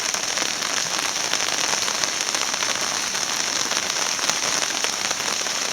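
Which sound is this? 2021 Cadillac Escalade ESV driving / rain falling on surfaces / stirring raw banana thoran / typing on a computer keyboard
rain falling on surfaces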